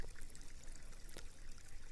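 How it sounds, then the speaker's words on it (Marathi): Water seeps and trickles out from under a large rock outdoors, a faint, soft, continuous burble with small splashy flickers, heard alone and up close. "मग याच्या खालूनच असा पाणी असा झिरपून येत आहे"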